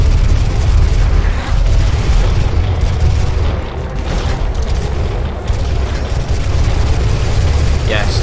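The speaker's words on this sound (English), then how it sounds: "More explosions!" Explosions in Doom, on the level The Foundry: a loud, continuous wall of deep rumbling booms and blasts, with gunfire-like crackle mixed in, that stays dense and heavy throughout.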